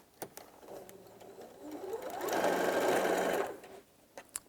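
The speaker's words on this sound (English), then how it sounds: "Just make sure you're only sewing 2 pieces of fabric together at all times" A sewing machine stitches hessian fabric for a bag in one steady run of about a second, rising and then cutting off, with quieter handling before and after.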